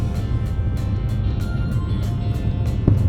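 Steady road rumble and wind from inside a Maruti Brezza CNG car cruising on the Delhi–Amritsar–Katra expressway, a continuous low drone with no voices over it.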